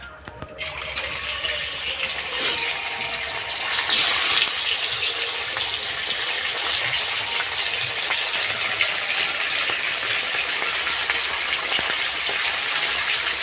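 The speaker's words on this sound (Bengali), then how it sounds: "ভাজার জন্য মাছগুলো দিয়ে দেবো। তেলটাও গরম হয়ে গেছে।" Loud, steady sizzling of fish frying in hot oil, a dense crackling hiss that holds for the whole stretch after a brief quiet start.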